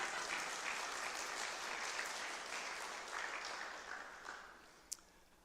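Steady audience applause fills a civic State of the City address in Tiffin, Ohio, a dense even patter of many hands that slowly tapers toward the end, with one sharp clap near the close.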